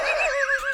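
A horse gives a loud, close whinny, a shrill wavering neigh that trembles up and down in pitch for under a second, with no talk over it.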